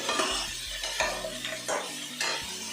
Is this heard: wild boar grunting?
no